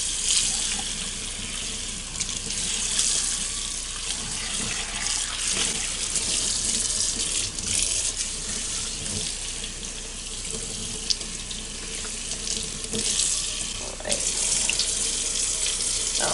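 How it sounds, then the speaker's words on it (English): Steady stream of tap water running into a sink while a cast iron skillet is rinsed, continuous and close, with a few faint splashes and knocks and no talking. "And then we're going to rinse it well."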